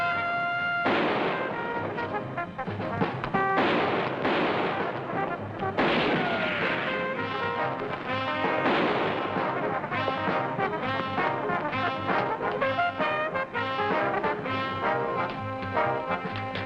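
A shootout in the 1950s crime drama M Squad, where several loud gunshot bursts crack out over a dense, blaring orchestral score.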